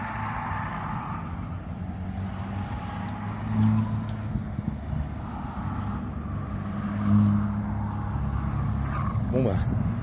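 Race cars lap the small circuit at Magny-Cours, their engines droning steadily in the distance and swelling twice as cars pass nearer. Faint background voices sit under the noise.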